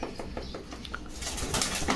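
Pigeons coo at a crowded pigeon seller's loft in Bogura, with a steady bed of soft cooing and rustling close by, plus a faint clatter, and no talking.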